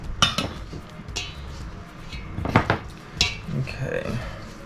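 A spoon works the reserved flour into pizza dough in a bowl, with a few sharp clinks and scrapes against the bowl spaced irregularly, close by, while a person talks.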